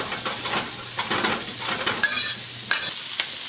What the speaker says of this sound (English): So we're just going to give that a quick stir fry.